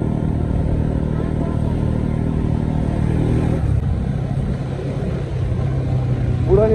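Motorcycle ride along a mountain road, the engine droning steadily close by with wind and road noise, the pitch shifting partway through.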